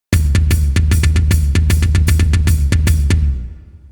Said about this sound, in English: I'll add the hi-hat in so you can kind of see how that counts.